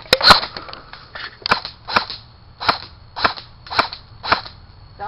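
Airsoft gun firing in the woods: a series of about a dozen sharp, snappy shots at an irregular rhythm, close and loud, with quiet gaps between them.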